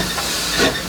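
Steady, close hissing of steam inside the cab of a steam locomotive, a broad continuous rush that swells briefly before settling.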